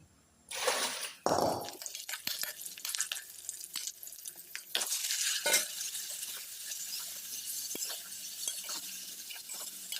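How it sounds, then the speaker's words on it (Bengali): Tomatoes frying in a pan in a home kitchen, a loud hiss as they hit the oil, then quieter sizzling with scattered utensil clinks and stirring. "টমেটো একটু ভাজি করি"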